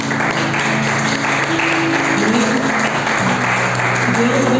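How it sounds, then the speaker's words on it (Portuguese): Church congregation applauding through a sermon, a steady dense patter of clapping with a voice carrying over it the whole time. "Então aplauda o Senhor."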